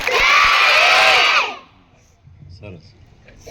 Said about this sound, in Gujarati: એટલે એકવાર જોરદાર તાળી પાડો.